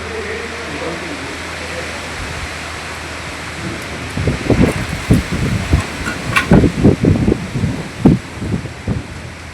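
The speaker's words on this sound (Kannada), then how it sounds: "ಮಳೆ ಬಂದು ಬಿಡ್ತು" A heavy rainstorm with strong wind at a village home, starting as a steady rushing hiss and building into louder, irregular gusts and buffeting bursts close to the microphone.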